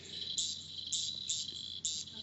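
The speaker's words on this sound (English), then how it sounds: "It's one of the smallest Australian frogs. They do sort of sound like crickets." A tiny Kimberley frog, one of Australia's smallest, gives short cricket-like chirps, four bright pulses spaced roughly half a second apart, fairly close against a quiet background.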